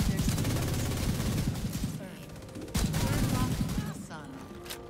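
Fully automatic rifle fire in Division 2: sustained rapid bursts with a brief pause before another long volley, loud and dense, with faint game sounds underneath.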